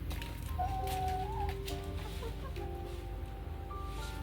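Semi-free-range backyard chickens cluck softly and intermittently over a low steady background hum, with a few drawn-out calls among the short clucks.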